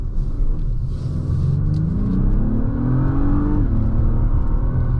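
A 2024 Acura MDX Type S V6 in Sport Plus mode accelerates hard from inside the cabin, its engine note climbing steadily in pitch, dipping once at a gear change, then rising again under a constant road rumble.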